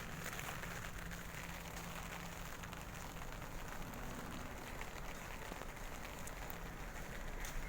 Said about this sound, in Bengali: বৃষ্টির পানি পড়তেছে